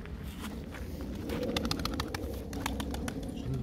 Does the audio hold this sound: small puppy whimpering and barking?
no